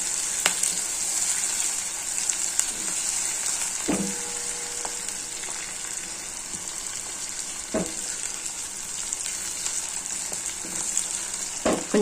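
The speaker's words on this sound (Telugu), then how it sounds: "ఈ ఆనియన్స్ వేయించి పక్కకు తీసి పెట్టుకోవాలి." Onions frying in a pan for a bitter gourd curry, a constant hissing sizzle with occasional stirring clinks and scrapes, close and steady with no talk.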